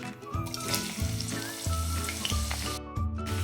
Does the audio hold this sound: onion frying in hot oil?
yes